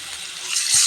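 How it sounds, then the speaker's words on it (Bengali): A little water is poured into a cooking pot of spice paste, a brief rising hiss and splash that grows louder toward the end. "পানি দিয়ে দিচ্ছি"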